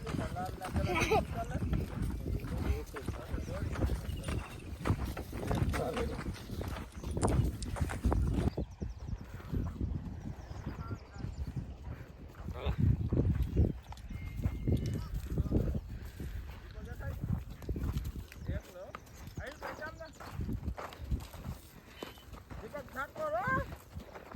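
Horse hooves clip-clopping at a village fair, a steady close rhythmic clatter that carries on under loud talk and crowd voices throughout.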